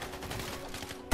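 Gunfire in Fortnite, a short burst of shots ending in one sharp, loud hit at the very end, with game ambience underneath.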